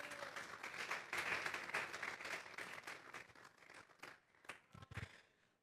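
Brief round of congregation applause at a church service, steady dense clapping that thins out and fades to a few scattered final claps, no voices over it.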